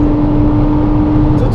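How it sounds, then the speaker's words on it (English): A Nissan GT-R at full throttle on a race track, a loud, steady engine roar with wind and road noise held close and constant throughout. "I'm full throttle right here"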